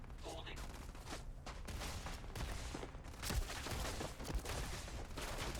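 Gunfire from enemies in the Starfield video game, shots cracking in dense, overlapping bursts at a player's base, with game music and a voice talking throughout.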